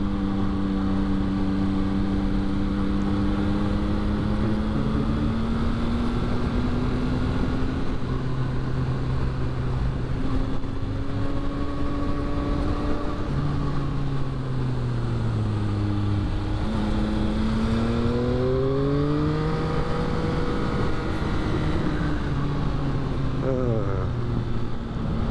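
A 2022 Yamaha XSR900 motorcycle's engine pulls steadily at close range, its pitch climbing and dropping repeatedly as gears shift on a twisty road, with wind noise throughout and talk over part of it.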